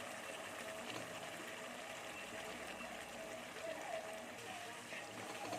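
Pointed gourd (potol) pieces go into hot spiced oil in a pan, giving a steady, moderately loud sizzle and crackle that holds evenly throughout with no pauses.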